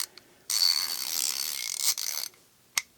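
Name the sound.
90-tooth locking ratchet mechanism clicking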